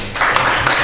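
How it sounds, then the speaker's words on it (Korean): A brief burst of dense audience clapping rises at a Korean political party press event as a party leader is welcomed, filling the room evenly. "박수로 모시겠습니다."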